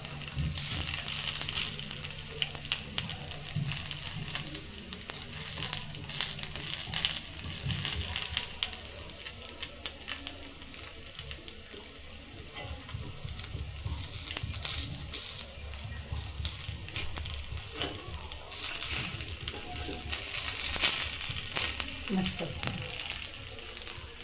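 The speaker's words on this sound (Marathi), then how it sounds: "पलटी करायची किती छान आपले असते दुसऱ्या बाजूनी खरपूस अशी भाजून घ्यायची" Rava appe roast on the second side in a lightly oiled appe pan after flipping, a continuous soft hiss and crackle of frying that runs steadily throughout, with a voice faintly present at times.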